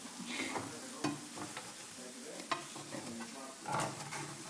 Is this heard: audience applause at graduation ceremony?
no